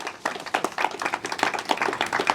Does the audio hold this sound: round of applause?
yes